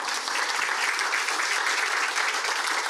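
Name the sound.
audience applause for Miss Sophie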